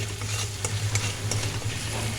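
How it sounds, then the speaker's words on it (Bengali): Spices for a pointed gourd curry being sautéed in a pan, a dense steady sizzle with a low hum underneath and a few sharp utensil clicks against the pan, close and constant, no one speaking. "এবার আমি সমস্ত মশলাগুলো একসাথে ভালো করে কষিয়ে নিয়ে"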